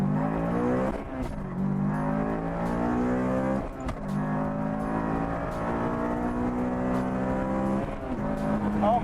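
A 2006 Honda S2000 fitted with an aftermarket intake pulls away hard from first gear. The engine roars as it climbs through the revs, with gear changes breaking the rising pitch, heard loud from inside the car.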